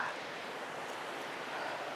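Cool river water flowing steadily at a fishing spot on the lower Geumho River in summer, a continuous broad rushing wash close by, with no talk over it.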